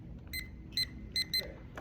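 A timer being set during a high school debate round gives several short, faint electronic beeps in an irregular run, one tone after another, over a quiet room hum.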